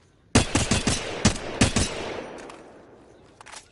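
Automatic rifle fire from a Flatline or Hemlock in Apex Legends: a loud, close burst of about eight rapid shots, then a decaying echo and a few faint distant shots, with no talking.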